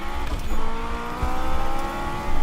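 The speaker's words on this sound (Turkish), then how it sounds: "Çok kötü drift yapıyorum şu an." A car drifting in Need for Speed 2015, played on a Logitech G27 wheel: a loud, continuous engine drone with revving surges and a faint tire squeal, heard alone.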